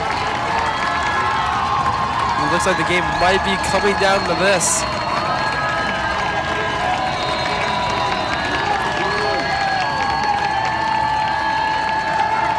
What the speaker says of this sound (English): You can hear the crowd getting louder.